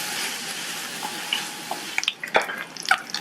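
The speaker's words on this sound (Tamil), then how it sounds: "இப்ப எல்லாத்தையும் நல்லா வதக்கிக்கோங்க" Onions and sliced garlic sautéing in a pan for a lentil lunch dish, a steady soft sizzle with stirring scrapes and a few sharp clinks of the spoon toward the end, no voices.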